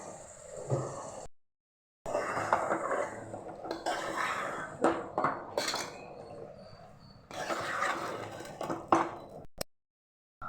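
A spoon stirs gongura mutton curry with turmeric and salt in a pot, making close, irregular scraping and clinking of metal in short bursts separated by brief silences.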